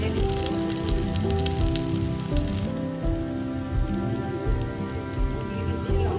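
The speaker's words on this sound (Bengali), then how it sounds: "পেঁয়াজ, আদা, রসুন ভেজে নিচ্ছি।" Onion, ginger and garlic frying in a pan while chicken is cooked at home: steady close sizzling and spattering that carries through the whole clip under a low background hum.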